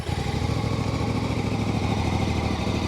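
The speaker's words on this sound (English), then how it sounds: "you can definitely hear that 270-degree crank there as the blubber, blubber, blubber, blubber burble through the exhaust" A Voge R625 motorcycle engine idling with its 270-degree crank, giving a loud, close, uneven burbling exhaust pulse that throbs steadily and alone throughout.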